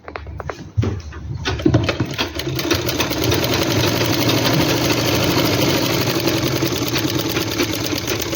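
A sewing machine stitching a simple suit along fuse paper starts after a few clicks and handling noises, then runs in a steady rapid mechanical whir with a fast ticking needle rhythm, close and loud, with no talking.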